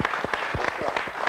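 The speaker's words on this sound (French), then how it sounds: "On t'applaudit." Applause from a studio audience on a French-language television talk show, a brief dense patter of many hands filling the room without a clear start or stop.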